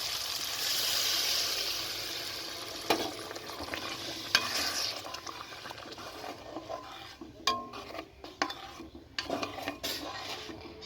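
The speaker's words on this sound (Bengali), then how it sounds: "মশলা হয়ে গেছে, এবার জল দেবো।" Water goes into a pan of cooked masala for a prawn curry. A loud hissing sizzle fades to softer bubbling, and a utensil stirs and scrapes against the pan throughout.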